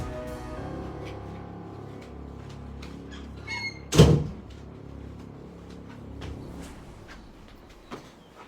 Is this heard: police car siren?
no